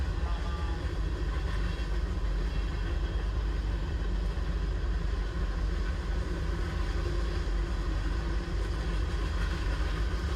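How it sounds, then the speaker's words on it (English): Steady, heavy wind rumble buffeting the microphone throughout in an open-top 1996 Chevrolet C4 Corvette LT4 with 6-speed manual, with a low engine drone underneath and no let-up. "I do apologize about the wind noise on this drive"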